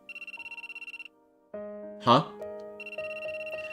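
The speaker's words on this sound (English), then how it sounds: "I wonder who's calling me. I set a unique ringtone for Asuka, so it's not her." A cell phone rings with a repeating electronic ringtone in the visual novel game Aokana: Four Rhythms Across the Blue, pulsing alone at first, then broken by game music and a brief startled voice before it resumes.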